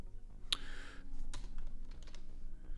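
Keys clatter on a computer keyboard close to the microphone, a few sharp clicks and taps scattered across a couple of seconds against a quiet room background.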